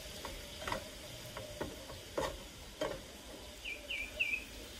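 Beef stir-frying in a pan for a Japanese beef rice bowl, with a low sizzle and several sharp utensil knocks and scrapes; faint high bird chirps sound near the end.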